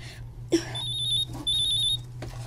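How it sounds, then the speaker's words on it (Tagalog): Cellphone ringing indoors in a drama scene: two bursts of high, warbling electronic ringtone chirps repeat in a steady pattern over a low background hum, fairly clear and close, with no talk over them. "Niring akong cellphone."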